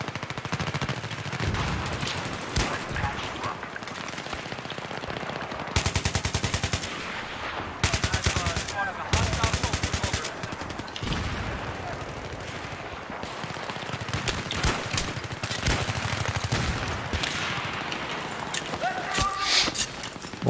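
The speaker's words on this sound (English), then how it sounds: "I'm shooting directly at this guy." AK-74M rifle fire in Battlefield 3 on the Canals team deathmatch map, with loud repeated automatic bursts spread through the clip amid game noise, while a player talks over it.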